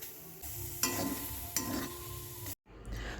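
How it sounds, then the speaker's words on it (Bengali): Ginger, garlic and onion dry-frying in an oil-free pan, a steady close sizzle with two sharp scrapes of stirring and a brief gap near the end. "শুকনো কড়ায়, তেল দেবো না, আদা, রসুন আর পেঁয়াজকে একটু ভেজে নেব।"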